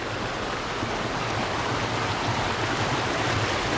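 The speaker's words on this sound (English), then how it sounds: "Don't know if you guys can hear that water." Water runs steadily through a small creek in a forest, a constant broadband rushing and gurgling that stays even and close throughout, with no talking.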